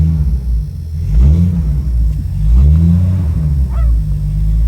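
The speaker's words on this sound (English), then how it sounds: "Let's see what it does if I rev it a little bit" A car engine revved a few times while idling, close up and loud, each rev a deep rumbling swell that rises and falls back to idle with no talking.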